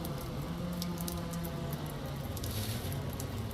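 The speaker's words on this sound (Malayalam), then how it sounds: "നല്ല മഴയാണ് കേട്ടോ" Heavy rain falling in a steady, dense patter that fills the whole stretch evenly and close by, with no voices over it.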